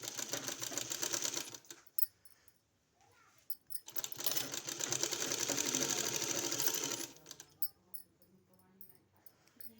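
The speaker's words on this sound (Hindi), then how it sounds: "इस तरह से हमने सिलाई लगा लिया है इसमें।" A sewing machine runs in two bursts of rapid, steady stitching along a kurti hem, close and clear, separated by pauses with light handling noise.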